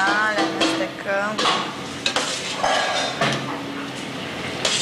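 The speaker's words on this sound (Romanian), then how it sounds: "Aici avem cartofi natur, cartofi fierți, tăiați mai mici. Și pe urmă le... Da, le amestecăm." Boiled, finely diced potatoes are stirred for a smoked mackerel salad, giving soft scraping and clinking of utensil against bowl in short bursts, close by, with some background chatter.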